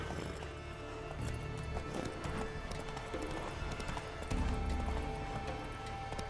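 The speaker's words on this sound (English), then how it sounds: "Whoa there, Roach." Horse hooves clip-clopping and galloping in The Witcher video game, a steady close rhythmic beat of many hoof strikes over a dense in-game ambience, growing heavier and louder near the end.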